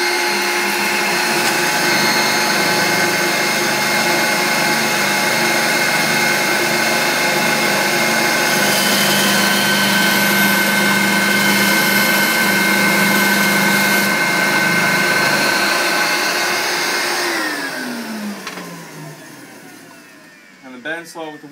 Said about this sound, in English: the bandsaw with the wood blade on it just cuts through that Perspex like a hot knife through butter